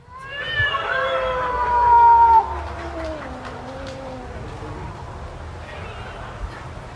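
A looped recording of a cat in heat gives a long, wavering, drawn-out yowl that swells loudly and then slides down in pitch before fading into a low background hum.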